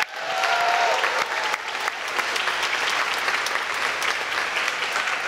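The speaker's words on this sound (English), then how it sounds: "Can we just give them a round of applause?" Graduation class day audience applauding graduates, their families and friends, a loud, dense, sustained round of clapping from a large crowd that starts abruptly and holds steady.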